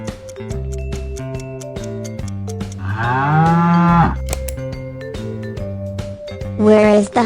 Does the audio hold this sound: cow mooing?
yes